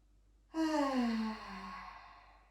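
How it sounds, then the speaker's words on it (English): A single deep yoga exhale through the mouth: a sudden, close breathy sigh that starts loud and slowly trails off, alone in a quiet room. "Let's do 3 deep inhalation and exhaling through the mouth."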